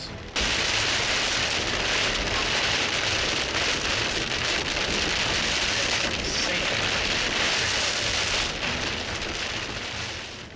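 Heavy rain pours steadily during a tornado storm chase, a dense, loud, constant hiss of drops drumming on a surface with no breaks and no talking.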